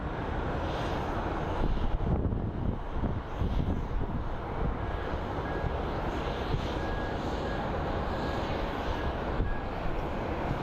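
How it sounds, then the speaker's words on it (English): A Southwest airliner taxiing at Phoenix Sky Harbor International Airport, its jet engines a continuous broad roar heard from a distance with gusty wind buffeting the microphone. "And then of course your standard Southwest taxi."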